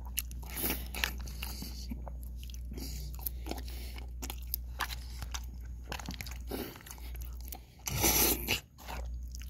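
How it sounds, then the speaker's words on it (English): Close crunchy biting and chewing sounds of pasta being eaten fast repeat irregularly, with mouth noises and a low steady background hum throughout. "I'm gonna try to eat this as fast as I can."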